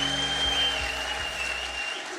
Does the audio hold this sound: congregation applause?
yes